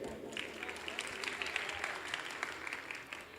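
An audience at a mushaira poetry gathering in Paharpur, Azamgarh, claps in dense, continuous applause of moderate loudness, tapering slightly at the end.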